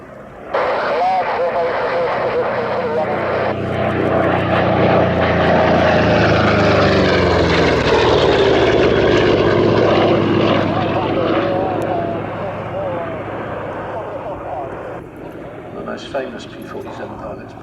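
A P-47D Thunderbolt propeller fighter makes a loud pass at an air display, its piston engine roar swelling and then shifting in pitch as it goes by, slowly fading toward the end.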